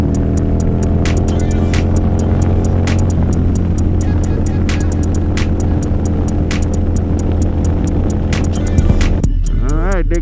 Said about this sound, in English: There goes Zacky's truck.